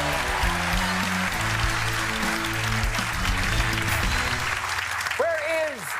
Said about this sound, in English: give Ross a big round of applause